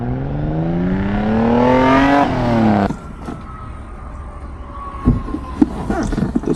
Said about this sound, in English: Those gravel tires are so loud. You hear them coming?